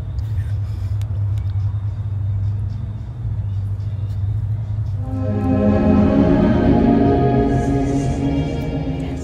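Steady road traffic rumbles in the background at a restaurant as cars pass, with a low engine drone throughout and a busier stretch of passing vehicles near the end; no clear talking over it.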